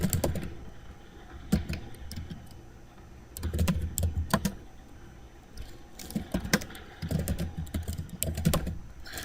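Computer keyboard keys clatter in irregular bursts and pauses as commands are typed in, close and fairly loud, with no talking.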